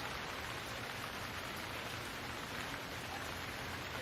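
Steady rain falls on a cottage garden with rhododendron bushes and rows of plants, making a dense, even hiss of drops with no pauses or voices.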